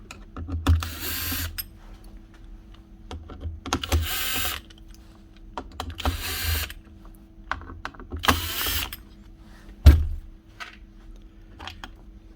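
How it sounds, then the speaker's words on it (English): Screws are backed out of the circuit board of a Makita DMR109 DAB radio, with four separate bursts of close, gritty screwdriver turning spaced by quiet gaps and a sharp knock near the end. "A few screws around the outside here, holding this board on. Take all them out."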